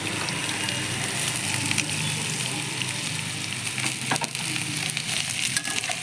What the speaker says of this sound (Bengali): এবার একটু ভাজা করে নিই।